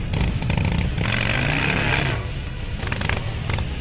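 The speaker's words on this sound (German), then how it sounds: "Oh ja, mit dem Burnout hier auf die Bühne." A custom chopper motorcycle at a bike show does a burnout on stage: loud, sustained engine roar with revving surges and tire screech, close and continuous.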